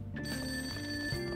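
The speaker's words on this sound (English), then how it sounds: "That ringing sound isn't coming from my cell phone. hear it coming from downstairs." A telephone bell rings steadily downstairs in the video game Persona 5, an unbroken electronic trill with nothing else over it.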